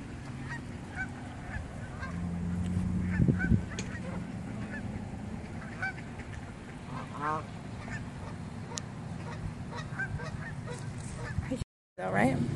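Geese and ducks honk repeatedly by the water, a few loud close calls standing out over a steady outdoor background while people talk quietly nearby.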